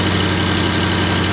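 An Audi RS6 Avant idles after a downpipe install, with a loud, steady, deep rumble and a continuous low drone and no voices.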